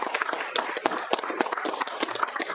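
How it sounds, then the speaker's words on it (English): Audience applause at a City of Gold Coast council mayoral award ceremony: a room of steady, dense clapping that carries on throughout with no talk over it. "you can applaud"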